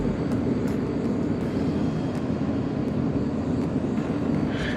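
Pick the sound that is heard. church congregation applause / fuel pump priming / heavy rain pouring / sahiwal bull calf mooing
fuel pump priming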